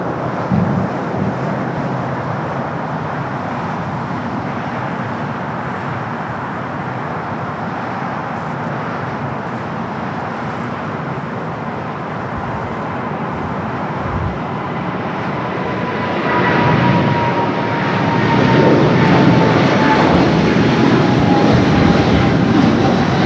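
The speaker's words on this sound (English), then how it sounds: "The GE90s rolling down" A Boeing 777-300 with GE90 engines takes off on runway 25 right, its steady roar holding broad and loud before swelling louder in the final seconds, with a faint rising whine threading through.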